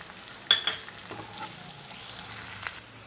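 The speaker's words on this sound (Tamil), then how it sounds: "இஞ்சி பூண்டு பேஸ்ட்டு போட்டு ஒரு 1 நிமிஷம் அப்படி நல்லா வதக்கிக்கோங்க" Ginger garlic paste frying in a pan for paneer butter masala makes a bright, continuous sizzle, with several spatula scrapes and knocks as it is stirred, close and with no speech.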